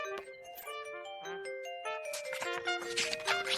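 Bright chiming tones ring out in a cheerful sequence of bell-like notes, clear and close, followed by a denser, shimmering jingle toward the end.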